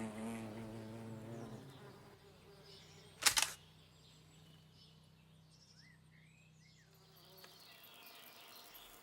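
Bumblebees in a garden, a faint low buzzing that drifts near and far, with one brief sharp click partway through.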